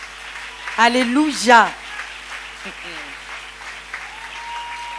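A church congregation applauding, a steady patter of clapping throughout, with a voice calling out loudly over it near the start.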